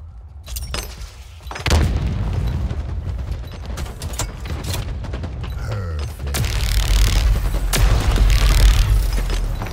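A frag grenade and combat in a ranked Oddball match of a shooter video game: heavy booming blasts and scattered gunfire rumble through, growing louder toward the end.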